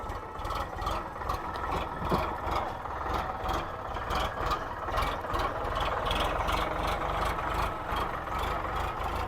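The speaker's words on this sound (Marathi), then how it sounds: "बघू शकता ओढत गाडी." A vehicle that will not start is towed past with a steady, low engine drone and rumble, fairly close, with no talk.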